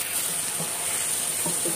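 Food sizzles and fries steadily in a pan on a kitchen stove, a soft continuous crackling hiss with faint stirring clinks, no voices.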